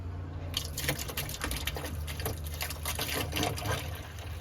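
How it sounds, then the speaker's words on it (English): Water softener cleaner pours steadily from a bottle into a brine well, a continuous glugging splash at close range with no voices. "So after you've removed the lid, you're just going to want to pour"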